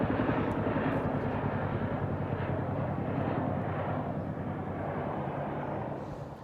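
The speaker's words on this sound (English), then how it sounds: "that was a couple of Chinooks flying past" Two Chinook helicopters pass overhead, a steady, loud rotor and engine roar that fades slightly toward the end.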